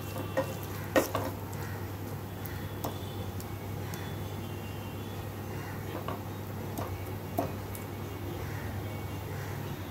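Onion frying in a pan for ghughni gives a steady close sizzle, with scattered clicks and stirring scrapes throughout and a low constant hum underneath.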